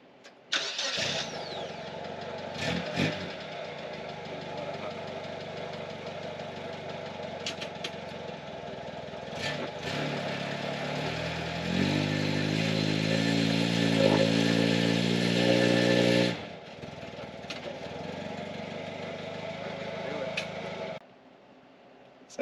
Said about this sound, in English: let's try to do a burnout